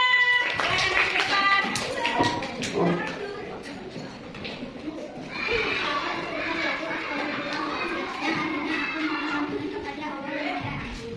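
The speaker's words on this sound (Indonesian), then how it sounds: "tepuk tangan dulu buat kelompok 2." Primary schoolchildren in a classroom clap for a class group, scattered taps at first and then fuller clapping with children's chatter and a teacher's voice throughout.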